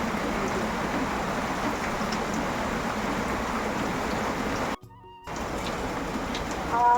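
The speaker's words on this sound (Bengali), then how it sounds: "প্রচুর বৃষ্টি হচ্ছে বাইরে" Continuous broadband rain noise falling steadily, briefly cut off for a moment before resuming, with a voice speaking at the very end.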